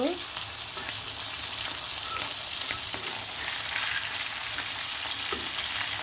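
Hilsa fish fry in oil with a continuous close hiss and crackle, steady throughout, with a couple of light utensil touches and no talk over it.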